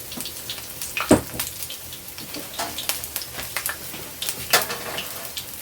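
Apple fritters frying in shallow oil, a soft, steady crackle and sizzle with scattered sharp pops, fairly quiet and close with no talk.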